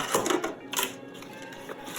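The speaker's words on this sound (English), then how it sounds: "I think I need the scissors, so there we go." Scissors cut into a stuffed paper mail envelope with a few faint, crisp snips and rustles spread across a quiet moment.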